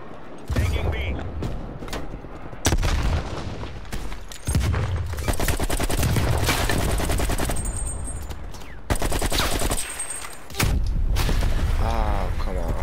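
Automatic gunfire in a Call of Duty Black Ops Cold War multiplayer match, repeated loud rattling bursts separated by brief pauses, close and aggressive, with a voice talking at times.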